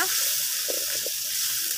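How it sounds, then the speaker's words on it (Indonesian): Spices and seasoning paste fry in a pan for a spinach and fish dish, giving a steady, even sizzle with a few soft stirring scrapes and no talk. "terus semua bumbunya tadi semua kita goreng ya"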